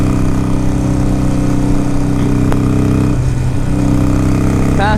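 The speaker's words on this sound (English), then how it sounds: "I can easily get up to 70, just kind of rolling on it." A 2009 Harley-Davidson 883 Sportster cruises near 70 mph on the highway, its engine giving a loud, steady drone mixed with wind rush, with no talking.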